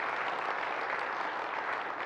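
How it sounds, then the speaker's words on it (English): Audience applause at a township event, a steady wash of clapping for a congressman from Washington, D.C. that fills the whole moment at moderate level with no voices over it. "yes, give him a round of applause."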